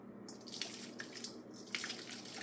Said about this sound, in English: we're just gonna pour that as best we can